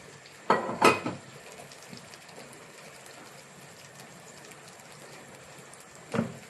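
Soy sugar chicken wings poured skin side down into a little hot oil in a home kitchen pan, a couple of sharp clattering impacts at the start, soft sizzle underneath, and another clunk near the end.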